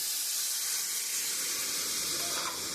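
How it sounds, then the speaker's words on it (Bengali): Steady steam and sizzle rise from a pan of curry after water is poured in, a continuous hiss that holds at one level with no talk. "আমার কষানো হয়ে গেছে আমি পরিমাণ মতন জল দিয়ে দেবো"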